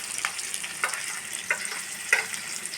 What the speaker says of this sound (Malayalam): നമ്മൾ വെച്ച വെണ്ടക്കായൊക്കെ നേരിയതായിട്ട് ഫ്രൈ ആയി തുടങ്ങി